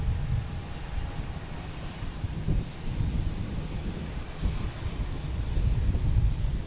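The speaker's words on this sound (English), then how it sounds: "here is Delta and A321neo heading to Las Vegas" A Delta Airbus A321neo departing Boston Logan Airport, a broad jet engine roar with wind rumble that swells gradually and grows louder toward the end, no voices present.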